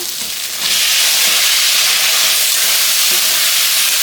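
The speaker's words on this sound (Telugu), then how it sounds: "ఈ నెయ్యిలో ఆయిల్లో వేగితేనే ఫ్లేవర్ అనేది బాగుంటుంది" Vegetables frying in ghee and oil in a single pot for pulao, giving a loud, steady sizzling hiss that swells after a brief quieter start and holds without a break.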